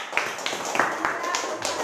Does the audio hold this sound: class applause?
yes